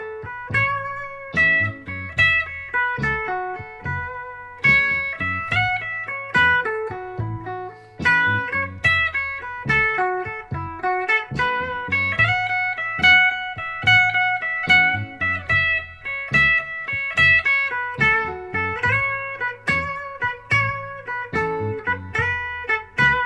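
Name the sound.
guitar improvising over two chords with pentatonic scale positions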